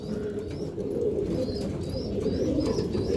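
Several pigeons in a loft of flying and breeder birds coo repeatedly, soft rolling calls layered over a steady low murmur, with no talking.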